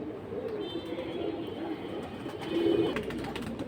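Pigeons for sale at a busy pigeon market coo in a low continuous murmur beneath crowd hubbub, with one slightly clearer coo near the end.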